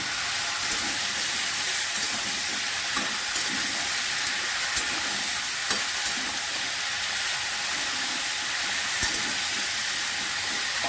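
Ground coriander, cumin, salt, dried and green chillies being sautéed together in a pan for a mixed vegetable curry with fish head, giving a steady, even sizzle with faint stirring scrapes throughout.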